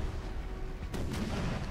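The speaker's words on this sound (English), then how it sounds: "The cannons have all fired." Cannon artillery volley in the Napoleon Total War strategy game, a sharp booming report partway through followed by a second blast, rolling over a steady background of battlefield ambience.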